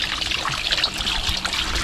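A weak, steady trickle of water runs from a safety eye wash station at a crusher plant, with a continuous hissing flow and no talk.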